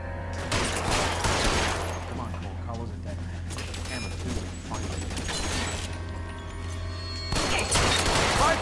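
Rapid bursts of Tommy gun fire in the video game L.A. Noire crackle in loud clusters with short pauses between volleys, over a steady low game hum and mechanical rattles.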